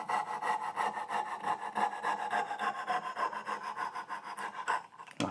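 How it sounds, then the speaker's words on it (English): Hand saw cutting a dovetail joint in wood, a close, rhythmic rasp of back-and-forth strokes that carries steadily throughout and ends in a brief sharp change near the finish of the cut. "You'll be able to hear, with the cutting, you'll be able to hear the noise change when the wood's getting a bit weaker and more fragile."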